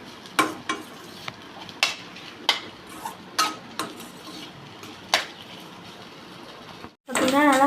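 Egg rice with vegetables and sauce is stirred in a pan, a spoon clinking against the metal about ten times in an uneven rhythm over a soft sizzle, with a louder clatter at the end.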